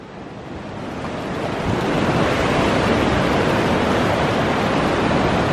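Ocean surf breaking on a beach, a dense continuous roar that builds in the first couple of seconds and then holds steady and loud, with wind buffeting the microphone and no voices.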